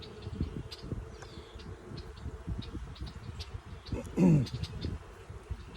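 Honeybees buzzing in an open beehive box during spring hive inspection, a continuous low droning hum close by with a louder buzzing pass midway and light handling noises.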